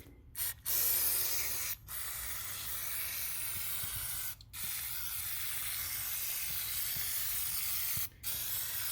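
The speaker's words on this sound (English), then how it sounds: "spray the entire surface here with brake cleaner" Brake cleaner sprayed across the surface of a Sea-Doo 951/947 engine's bottom end to dissolve grease: long, loud continuous hissing bursts broken by short pauses, close to the can.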